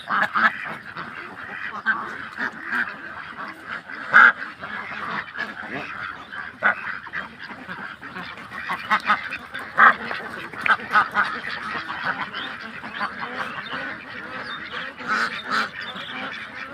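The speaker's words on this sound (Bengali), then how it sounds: "হাঁসগুলো অনেক সুন্দর হাঁস, অনেকটি হাঁস যা বলার বাইরে।" A large flock of ducks on a duck farm quacks and honks continuously, a dense, busy chorus with occasional louder calls rising above the rest.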